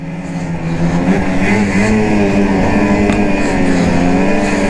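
A 2020 Ski-Doo Backcountry XRS snowmobile drives steadily through an icy corner, its engine loud and close with a sustained, slightly wavering drone that builds in the first second and then holds.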